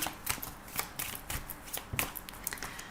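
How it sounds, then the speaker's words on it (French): Tarot cards being laid out on a table, giving a run of crisp, close papery slaps and flicks at an uneven rhythm with no voice over them. "je vais juste mettre les cartes ici"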